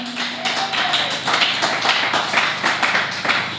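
A church congregation claps rhythmically in a worship service, a steady room-filling beat of many hands at moderate loudness with a faint voice briefly underneath.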